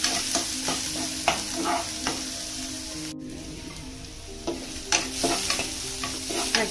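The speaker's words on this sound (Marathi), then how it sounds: "मिरची आणि कांदा. फ्राय करून घ्यायचं." Ginger, chilli and onion frying in a pan while being stirred, a steady sizzle broken by repeated scraping strokes of the spoon, close and fairly loud, with a brief silent gap midway.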